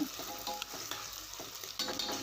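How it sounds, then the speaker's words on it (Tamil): Ginger garlic paste frying in oil in a pressure cooker, a close, steady sizzle with stirring scrapes, no talking. "நம்ம வந்து ஆயிலே நல்லா ஃப்ரை பண்ணி எடுத்துக்கலாங்க"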